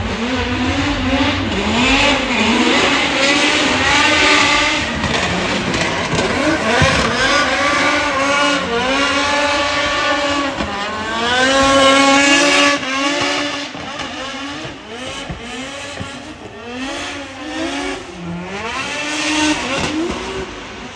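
A loud, raspy straight-piped BMW drift car engine revs and bounces off the limiter continuously during DriftMasters practice at Ferropolis, rising and falling in pitch as it drifts past up close, with occasional tire squeal.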